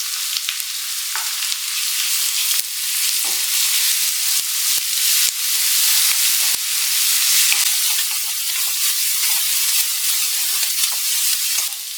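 Sizzling and frying of ginger garlic paste with browned onions in a pan for an egg curry, a steady close crackling hiss with scattered stirring clicks and pops throughout.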